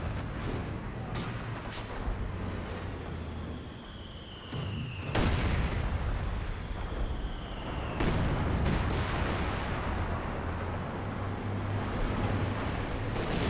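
Stuka dive bombers attacking in the Company of Heroes 2 video game, with a continuous roar of battle, dense crackling gunfire, and heavy booming blasts around five and eight seconds, loud and close with no voices.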